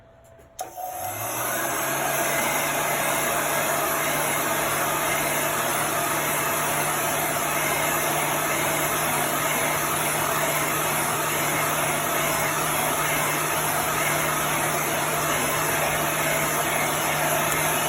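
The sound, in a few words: dryer blowing air to dry chalk paste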